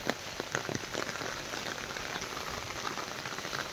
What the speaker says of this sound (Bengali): বৃষ্টি বৃষ্টি আর বৃষ্টি।